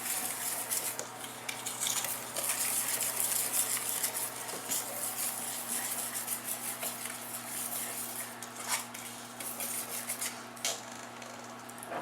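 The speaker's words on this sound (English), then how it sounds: "I'm stirring here." A spoon stirring cinnamon, ginger and ground clove into pumpkin sheet cake batter in a bowl, soft repeated scraping and clinking against the sides, fairly quiet and close, with a low steady hum beneath.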